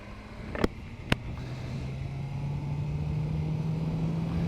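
A 2022 BMW S 1000 R motorcycle engine on the road: two sharp clicks, then a steady engine drone rising gradually in pitch as it pulls away, close and moderately loud with road and wind rush.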